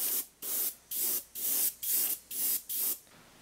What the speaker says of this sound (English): So I'm spraying this at around 30 psi.